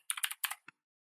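Typing on a computer keyboard while searching a code editor's settings for format on save, heard as two quick bursts of close, crisp key clicks followed by a single soft keystroke, then silence.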